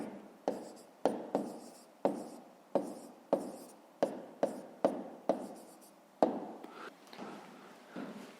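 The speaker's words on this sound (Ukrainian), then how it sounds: "зараз записуємо відповідь" Pen writing an answer on paper during a 5th-grade maths exercise: a dozen sharp tapping strokes spaced roughly every half second, close and clear, with no talk.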